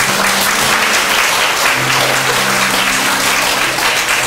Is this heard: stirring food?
no